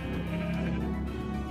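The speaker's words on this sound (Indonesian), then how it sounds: "domba" A Minecraft sheep gives a short, nasal bleat close up in the video game, loud and clear with no talking over it.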